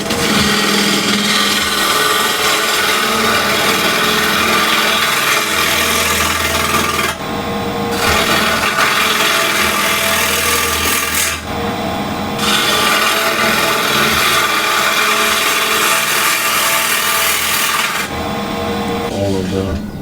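A bowl gouge rough-cuts a thin piece of apple wood on a lathe, producing a loud, continuous scraping and shaving roar that briefly drops out three times as the tool lifts off the spinning blank.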